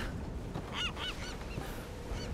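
A goose-like bird honks several times in Tomb Raider (2013), short nasal calls repeating in a loose rhythm over a low steady ambient bed, fairly quiet and with no talking.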